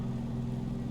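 Steady droning piston engine hum of a Grumman Goose G21A amphibian at full throttle in Microsoft Flight Simulator 2020, a constant low buzz filling the short moment.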